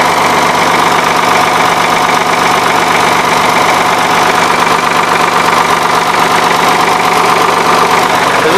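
A 1983 Ford 3910 tractor engine runs at a steady idle, a loud, close, continuous diesel rumble with a rhythmic knocking throb and vibration, no voices.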